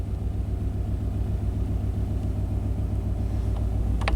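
A 1991 Chevy K1500 pickup engine idles steadily up close, a low, even rumble with a regular pulse and no talking.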